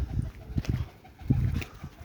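A pigeon on a rooftop gives a few soft, low coos in short bursts, alone and fairly close, with faint background noise.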